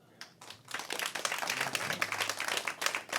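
Comedy club audience applause building quickly from a few claps into dense, sustained clapping that stays loud throughout, with a voice faintly mixed in.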